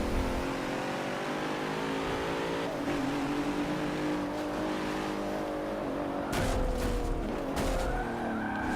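Several racing cars roar through a lap of Forza Motorsport 7, with a Mercedes, Bentley and Porsche close together, engine drone steady and loud and tires skidding and squealing near the end as the cars bump into one another.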